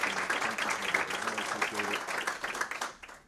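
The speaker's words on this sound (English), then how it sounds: "one more time a thunderous round of applause for this auspicious group" Audience at a public school board meeting applauding a group of school principals, a full, steady round of clapping with voices mixed in, tapering off at the end.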